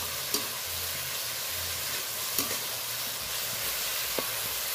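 Cooking liquid from bottle gourd leaves simmers down in a pan, giving a continuous close, even sizzle and hiss with a few faint utensil taps.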